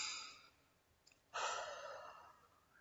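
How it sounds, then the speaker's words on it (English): A person breathing in and out as part of a lesson on how lungs work: a soft inhalation, a short pause, then a longer, louder exhale like a sigh, close to the microphone in a quiet room. "Now show me how you breathe."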